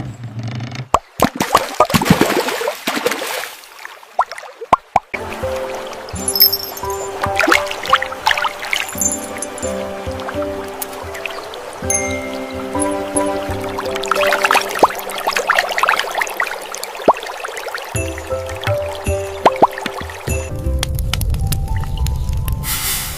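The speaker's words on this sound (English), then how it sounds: "For this, we will wash the tomatoes well." Tomatoes being washed in water in a mini kitchen, with close splashing, pouring and squishing sounds that come in bursts and stop short with brief gaps.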